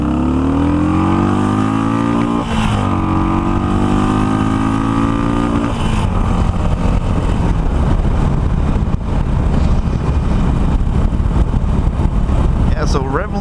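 A Harley-Davidson Iron 883 with a 348 cc Power Roll stroker crank and modified exhaust revs hard up to the rev limiter, a loud, close, rising engine roar that drops back and climbs again, carrying steadily without pause.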